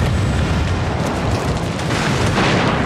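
Warship guns fire in World of Warships, a loud, sustained booming roar of shell blasts and rumbling explosions filling the whole short stretch without any pause.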